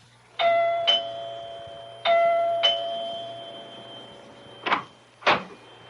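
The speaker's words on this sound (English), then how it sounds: "Dr. Lem Regan rings the doorbell of Clyde Wilkins' house." A doorbell chimes at a house as a radio drama effect: two clear two-tone ding-dong rings, each with a sustained ringing tail, followed by two short knocks or clicks.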